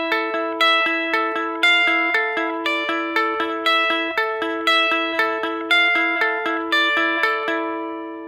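Clean guitar repeating a fingerpicked arpeggio pattern, evenly plucked notes ringing over one another in a steady cycling rhythm, clear and alone.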